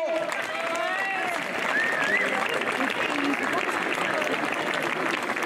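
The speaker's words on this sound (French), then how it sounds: "On peut les applaudir, bravo!" Crowd applauding young ski racers at a French youth championship ceremony in Isola 2000, with steady outdoor clapping and cheering and a few whistles under loud, continuous crowd noise.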